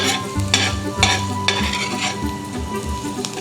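Garlic sizzles and fries steadily in olive oil that started cold, with soft stirring scrapes and clinks of a utensil against the pan close by.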